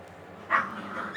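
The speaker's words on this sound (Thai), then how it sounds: "พอดีลูกหมามันกัดกันเนาะ" Puppies fighting indoors, one short sharp yelp rising briefly above a low background hum, with faint scuffling after it.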